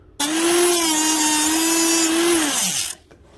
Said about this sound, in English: You want to kind of cut this fast so it doesn't unravel and burr on you.